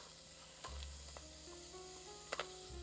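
Finely diced onion sautéing in a dry pan with no oil, giving a faint, steady sizzle under a low hum, with a few light clicks and scrapes of a utensil near the end.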